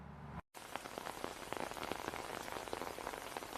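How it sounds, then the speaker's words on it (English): Steady rain falls on a surface, a dense continuous hiss with scattered drop patters; a brief dropout near the start, then unbroken downpour, no voices. "I can just wait for the rain to let up and walk by myself."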